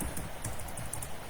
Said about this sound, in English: Oops, the typing is awful.